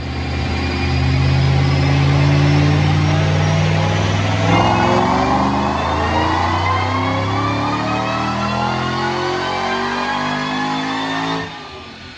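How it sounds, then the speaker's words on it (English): A supercharged 2008 Roush Black Jack Mustang with cams and a manual transmission revs hard on a Dynojet dyno, its loud engine note climbing steadily in pitch for about eleven seconds before cutting off abruptly. "Check out this dyno pull."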